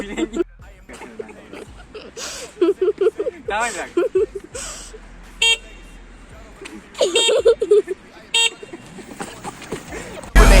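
Several short car horn honks over busy street noise, with voices and laughter cutting in between the blasts.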